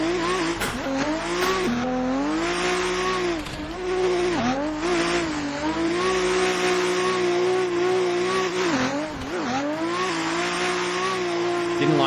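A tuned BMW E30 engine revs hard during a launch run, a loud close droning roar that climbs and dips through gear changes with bursts of tyre squeal.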